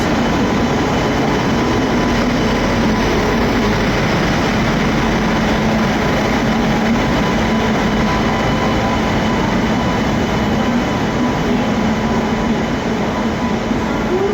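The Sampoorna Kranti Express pulls into platform 2 at Kanpur Central railway station with a steady, loud rumble of wheels and carriages that does not let up. No one speaks.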